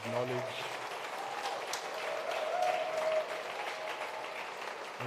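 Audience applause for presenters at the Sasol New Signatures 2022 art awards, a steady wash of clapping throughout with a faint voice and a brief tone underneath.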